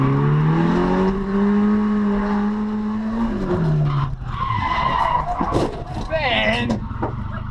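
A car slides wide off the racing line during a track day, its tires squealing and its engine droning under steady commentary from someone speaking over it.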